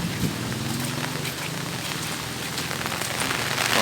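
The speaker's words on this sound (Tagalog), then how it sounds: "pero di na ganong kalakas ang ulan." Steady typhoon rain patters heavily on a surface, a dense continuous hiss of drops with no voices.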